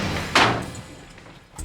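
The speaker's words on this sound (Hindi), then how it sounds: "दरवाजा तोड़ दो।" A door is forced open in a house during a tense search, one loud burst of impact followed by fading noise and a smaller knock near the end.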